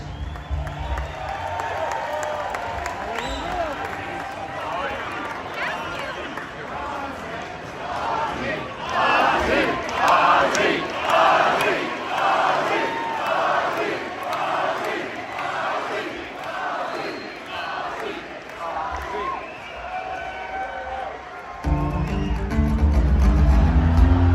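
At a concert at BankNH Pavilion in Gilford, New Hampshire, a large distant crowd chants a name in a steady rhythmic pattern. The chant swells and fades before loud music kicks in at the end.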